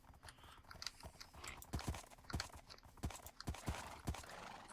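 Donkey hooves clip-clopping in a Minecraft-style video game, a scattering of sharp, irregular hoof clops at moderate distance over a soft background.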